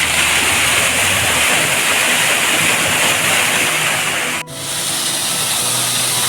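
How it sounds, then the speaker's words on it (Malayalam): Water plunges steeply down the Black Rocks waterfall, hidden in the middle of an estate, as a loud, steady, close roar that goes on unbroken and is heard alone. "ഇത്രയും ഹൈറ്റിൽ നിന്ന് കീഴ്ക്കാൻ തൂക്കായിട്ട് വെള്ളം ഇങ്ങനെ ചാടിക്കൊണ്ടിരിക്കുകയാണ്"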